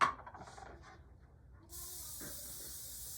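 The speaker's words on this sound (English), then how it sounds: "First, we're gonna spray our pan." Cooking spray hisses onto a pizza pan in a kitchen in one steady, close spray lasting over a second, after a few brief earlier puffs.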